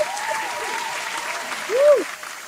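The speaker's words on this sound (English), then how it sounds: "Everybody, clap it up for Dr. Tashika." Audience at a live domestic violence talk event clapping steadily, a sustained patter of applause with a host's voice calling out over it near the end.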